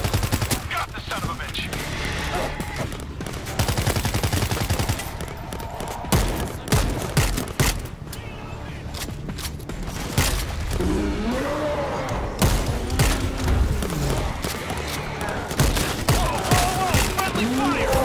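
Dense, rapid gunfire from World War Z bursts continuously, loud automatic volleys with heavy thumps and impacts, while a player talks over the shooting in places.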